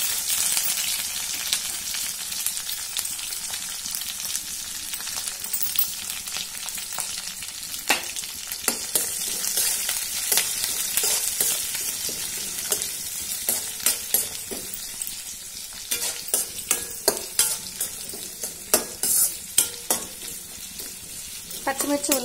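Green chillies and onion pieces fry in hot oil with a cumin, mustard seed and dried red chilli tempering for bendakaya majjiga pulusu. A steady, bright sizzle runs throughout, broken by sharp clinks and scrapes of stirring that grow busier toward the end.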